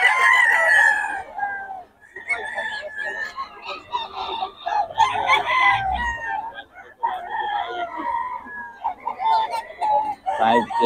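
Chickens and roosters cluck and crow repeatedly at a market in Bocaue, close and lively, while people talk among them.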